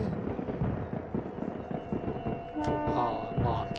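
Repeated crackling pops and booms of fireworks going off at a distance in the train-driving game Densha de Go! Ryojouhen, on the Enoshima Electric Railway line, with some tonal whistling sounds layered in toward the end.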